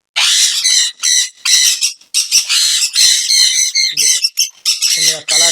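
Sun cheek conures in a home bird setup give loud, harsh squawks in rapid repeated bursts at close range, one after another without pause.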